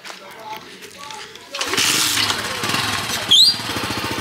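A motorcycle taxi's engine starts and then runs on a road in Kpalimé, Togo, rising in loudness after a moment, with people talking and background noise underneath.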